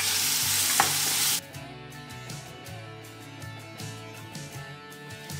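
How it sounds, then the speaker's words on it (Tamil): Onions and curry leaves sauté in a pan, a loud broadband sizzle at first that drops to a steadier, softer frying hiss with scraping stirs and occasional utensil clinks. "இதை நாம் பொன்னிறமாக வதக்கிக்கலாம்."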